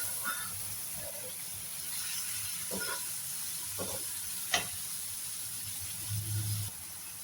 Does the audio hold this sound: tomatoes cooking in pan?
yes